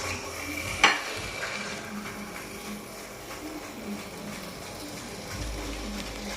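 Fish curry masala with turmeric being stirred in a pan as the oil separates, a spoon scraping softly over a low steady sizzle, with one sharp clink near the start.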